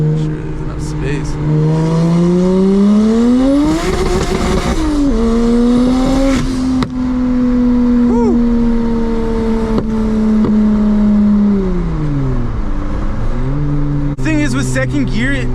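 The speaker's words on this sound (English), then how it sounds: "Second gear, I kind of have to bounce off the rev limiter." A single-turbo BMW 335i pulls hard in second gear, its engine note climbing and bouncing off the rev limiter before a shift drops the pitch, loud and close, with a voice speaking over it.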